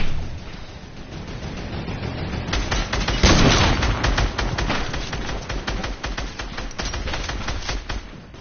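Video game gunfire rattles in rapid, dense bursts, with a loud volley of closely packed shots building in the middle and continuing as steady automatic fire to the end, no talk.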